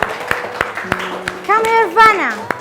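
Children clap their hands during a classroom English alphabet lesson: sharp single claps at a steady, spaced beat, with sung or spoken voices running alongside.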